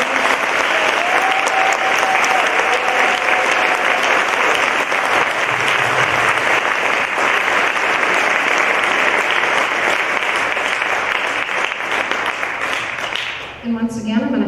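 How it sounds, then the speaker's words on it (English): An audience gives a big round of applause after a school concert choir performance, dense sustained clapping and crowd noise filling the room loudly before tapering off at the end. "So one more big round of applause,"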